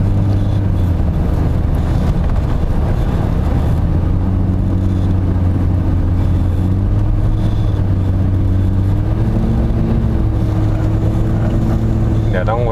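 An original, unmodified BMW E36 325i cruises at speed with a loud, steady engine drone and road rumble filling the cabin, the pitch shifting slightly as it pulls along, while people talk over it.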